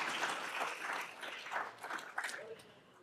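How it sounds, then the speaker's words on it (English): A round of clapping from an audience at a kickoff event, moderately loud and dense, rising and falling over a few seconds without talk. "Let's give the older generations a round of applause."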